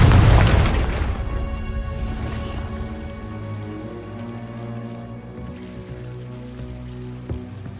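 The Confringo explosive spell in Hogwarts Legacy: a loud, close booming blast that decays over a couple of seconds into a long, ringing, tonal tail, followed by a small faint hit near the end.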